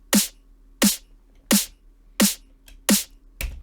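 Layered snare drum that includes a pitched acoustic amen snare: five sharp, evenly spaced hits with bright noisy tails, then a sixth, slightly different hit at the end, heard alone.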